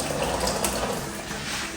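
Boiled water pours from a pot into a cooking pan while ugali is made, a short splashing, gurgling pour with some clinking. It is close and fairly loud, with no voices.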